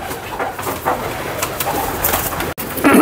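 Teddy pigeons cooing up close in a Lahore loft, a steady run of soft, throaty coos with a short break, standing alone without talk.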